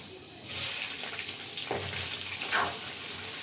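Onions hit hot oil with a sudden hiss that settles into a steady, close crackling sizzle.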